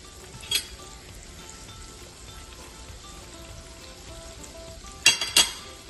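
Cabbage and chili frying in a pan, with a steady low sizzle throughout and a couple of brief clinks of a utensil against the pan near the start and toward the end.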